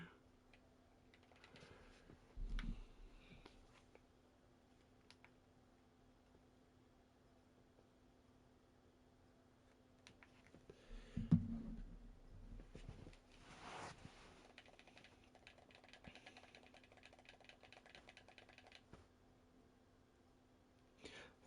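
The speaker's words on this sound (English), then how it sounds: "Love the sound of the button clicking from the controller because I know that's picking up." Game controller buttons click up close in quick, faint ticks and small clusters, with a couple of louder thumps and handling noises in between.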